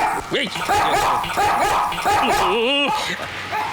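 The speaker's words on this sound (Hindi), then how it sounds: "मुझ पर भौंक रहा है" A dog barking repeatedly in short, loud, close yelps and barks, with a voice shouting over them.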